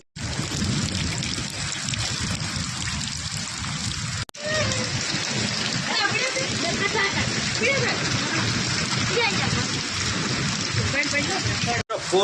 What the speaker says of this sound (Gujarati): ફૂલ કડાકા ભડાકા સાથે વરસાદ આવી રહ્યો મિત્રો.